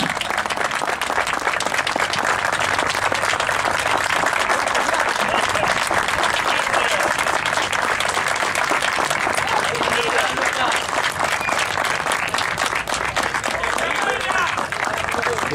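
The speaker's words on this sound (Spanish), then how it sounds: "Un fuerte aplauso para los chicos." Audience at a club jersey presentation for SF Villa Amelia giving loud, sustained applause with dense clapping and crowd noise throughout, with voices mixed in.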